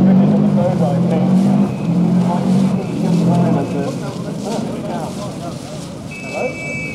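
A rally car on a special stage of the 1993 RAC Rally at Chatsworth runs loud and close as it veers off the road edge, its engine roaring and fading as it moves away, with crowd voices mixed in.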